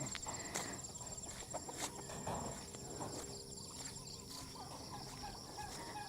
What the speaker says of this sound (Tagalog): There's one of our native chicken roaming around to get food.